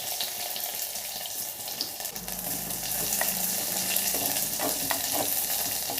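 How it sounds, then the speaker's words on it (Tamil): Sliced onion frying in oil in a mud pot makes a soft, continuous sizzle with light crackles, faint and close, swelling slightly partway through. "ஒரு வெங்காயத்தை போட்டுடலாம்."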